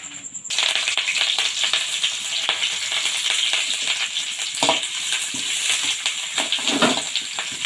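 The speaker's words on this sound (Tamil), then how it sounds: "எண்ணெய் சூடாயிடுச்சு இப்போ நம்ம வந்து வெங்காயம் சேர்த்துக்கலாம்" Onions dropped into hot oil in a kadai, a loud steady sizzle and crackle close by, with occasional spatula scrapes and knocks as they are stirred, no talk.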